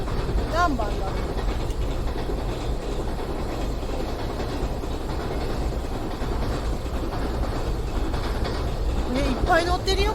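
A container-laden freight train on the Sanyo Main Line in Japan rolls steadily past close by, a dense rumble with rhythmic wheel clatter and a few squeals, continuous and loud throughout.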